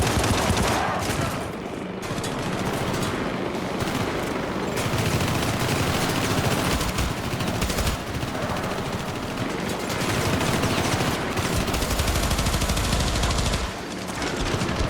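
Sustained gunfire in the video game Syndicate, dense rapid automatic bursts in a loud, nearly continuous barrage with brief lulls, close and harsh throughout.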